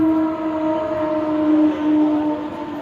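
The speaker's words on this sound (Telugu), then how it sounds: "మా రైల్వే స్టేషన్ పక్కన కదండి మా మా ఇల్లు అందుకని ట్రైల్స్ సౌండ్ అయితే వచ్చేస్తుంది బండి వెళ్తుంటే ట్రైన్" Train moving past a railway station beside a house, a steady tonal horn-like drone with rumbling wheels underneath, moderately loud and continuous with no talk.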